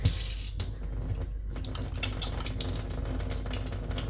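Water runs steadily from a tap for hand washing before cooking, giving a close, constant splashing hiss with small clatters in the sink.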